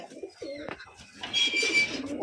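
Domestic pigeons kept in an enclosed room cackle and coo in soft, low rolling calls, a few overlapping coos rising near the end, close by and with no talking.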